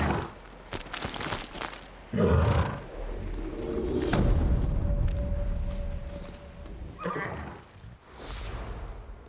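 A horse neighs and whinnies in the samurai game Ghost of Tsushima, the loud, close calls coming in bursts among hoof clops, a held tone and game ambience.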